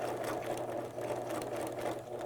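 A sewing machine stitches a diagonal line across fabric for an elastic waist edge, running with a continuous, even mechanical whir and fast rhythmic chatter, close by and fairly quiet.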